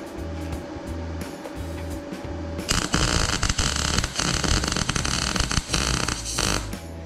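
MIG welding on a steel horseshoe wine rack, a steady crackling sizzle that starts abruptly partway through and runs loud and close to the end, with a softer hum beforehand.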